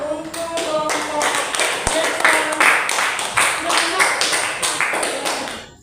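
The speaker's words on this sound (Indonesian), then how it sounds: "tepuk tangan untuk kelompok" A classroom of students claps for a group after their presentation, a quick, close patter of many hands with distinct slaps running throughout, while a voice speaks over the applause.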